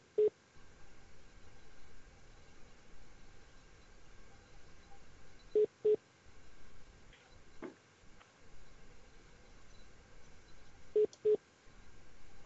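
Telephone keypad tones on a phone-in webinar line, short paired beeps repeating in clusters several seconds apart over a quiet, faintly humming line with no talk.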